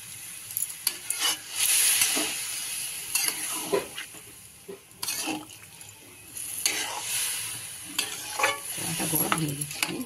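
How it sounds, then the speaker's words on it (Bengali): Boiled bottle gourd goes into potatoes frying in a pan with ginger-cumin paste, followed by loud, irregular stirring and scraping strokes over a constant sizzle. "আদা জিরে বাটা দিয়ে এলা সিদ্ধ করা লাউটা দিয়ে দেওয়া হচ্ছে আলুর মধ্যে"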